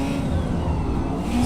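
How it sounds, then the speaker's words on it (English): A Ferrari race car in the racing game Forza Motorsport roars loudly and steadily, its engine note held high and dense with no break for the whole short stretch. "So, for some reason they made the Ferrari super loud in this game."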